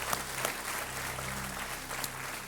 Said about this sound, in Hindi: तालियों के साथ आपका हम अभिनंदन करते हैं